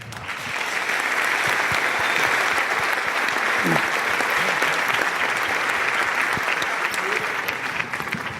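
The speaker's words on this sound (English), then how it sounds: "Please give a Thought Leader Summit big round of applause for Glenn Warner." Audience at a Thought Leader Summit applauding speaker Glenn Warner, a dense sustained wash of clapping that holds steady for the whole stretch with scattered cheers.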